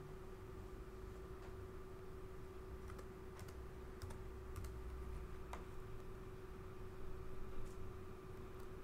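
Light typing on a computer keyboard while setting up a Eurotherm 3504 controller, scattered soft key clicks over a steady electrical hum in a quiet room.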